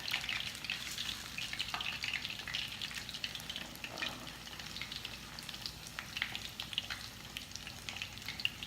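Breaded pork katsu fries in a generous amount of hot oil, giving a faint, steady crackling sizzle with small scattered pops throughout.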